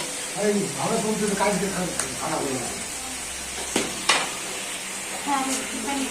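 Coconut frying with chilli tempering in a pan and being stirred, a soft sizzle with a few sharp spatula knocks against the pan, largely covered by people talking over it.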